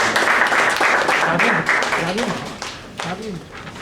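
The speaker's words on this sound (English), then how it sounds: "Let's give a big round of applause for all the role players." Applause for the role players at the close of a Toastmasters club meeting, a steady wash of clapping that thins toward the end, with voices talking over it throughout.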